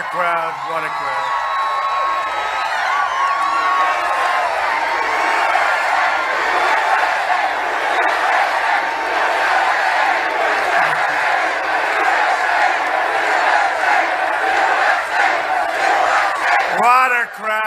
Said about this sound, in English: Wow, what a crowd, what a crowd.